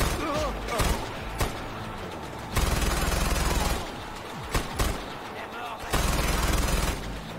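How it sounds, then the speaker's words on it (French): Heavy machine gun in Far Cry 4, firing in long, loud sustained bursts separated by short pauses, with a voice speaking between them. "Une putain de mitrailleuse lourde"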